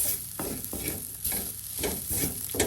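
Coconut, onion and crushed chili frying and being stirred in a pan, with a steady close sizzle broken by repeated scraping strokes of a spatula, no voices.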